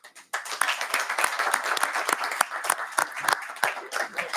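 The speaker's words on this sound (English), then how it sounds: "we can give them a round of applause" A round of applause fills a state House Education Committee hearing room, many hands clapping in an uneven, crackling patter for about four seconds after a brief pause, with no talk over it.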